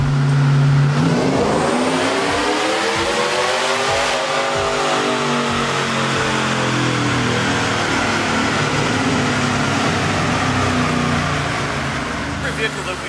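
A Yenko Silverado truck engine revs loudly on a chassis dyno, rising steadily in pitch over several seconds and holding a sustained high-RPM roar, with a person speaking over it near the start.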